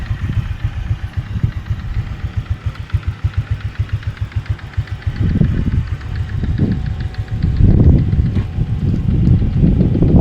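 A Honda Click V2 scooter engine idles close by during a carburetor idle adjustment, putting out a steady low putter that rises briefly twice into a louder revving burst before settling back.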